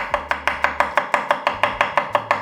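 Garlic is sliced thin with a knife on a board, giving about fifteen crisp, evenly spaced chops in a quick, steady rhythm, close and clear with no voices.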